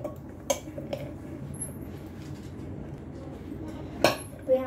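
Sharp metallic clinks of pots and utensils while loading a pressure cooker, a few separate knocks spaced out over low kitchen background noise.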